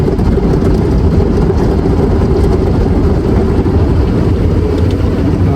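Automatic car wash at a Shell gas station in Foster City, California, giving a loud, steady low rumble of machinery and spraying water that runs without a break, with no voices.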